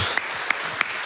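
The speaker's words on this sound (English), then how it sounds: "That's worth clapping for" An audience at a live video game speedrun event applauds in a steady wash of clapping, with a few sharper claps standing out at regular intervals across about a second.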